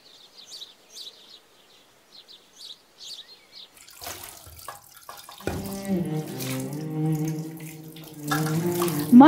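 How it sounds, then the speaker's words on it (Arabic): Water runs from a faucet in a home, a soft hiss growing louder, with birds chirping faintly at first and a voice briefly heard. "والما في الحنفية نظيف وينزل من نفسه"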